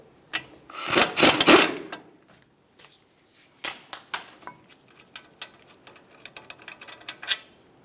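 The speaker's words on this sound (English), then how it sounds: "Fully remove your second bolt." A bracket bolt is backed out of the front brake caliper on a 2005-2010 Dodge Dakota: a dense burst of ratcheting and rasping, then scattered lighter clicks and taps close by, with no talking.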